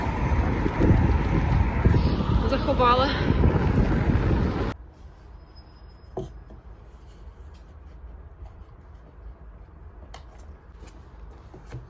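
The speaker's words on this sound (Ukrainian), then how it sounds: "І це дуже відчувається цей вітер." Strong wind roars and buffets the microphone for about five seconds alongside a brief voice, then cuts abruptly to near quiet with faint scattered sounds.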